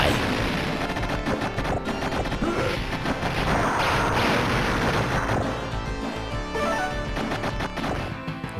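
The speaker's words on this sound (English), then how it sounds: "we have got Mercs, an arcade shooter, back in that portrait mode, where you're a very angry man running around shooting lots of people" Gunfire in the arcade shooter Mercs: a dense, loud, continuous barrage of shots and crashing blasts with no pauses and no voices.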